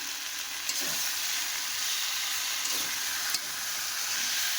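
Small potatoes sautéing in a pan with cumin and coriander powder, a steady bright sizzle and hiss with a few soft stirring scrapes, close and continuous, no talking.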